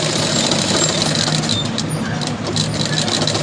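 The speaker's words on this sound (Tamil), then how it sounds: "நல்லா மெதியடை பிடிச்சி தையல் போடுங்க." A sewing machine runs steadily as it stitches two layers of fabric together on a puff sleeve for a 2-inch kuppa blouse. It gives a continuous, fairly loud mechanical whir with no pauses and no talk.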